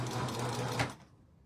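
Sewing machine stitching a seam in doll clothing, a skirt and bloomers: a steady close whirring run that stops abruptly partway through, leaving a faint quiet tail.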